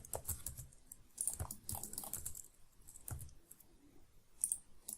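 Computer keyboard keys pressed while working in Blender 3D, giving scattered close taps and clicks in small clusters across a quiet room.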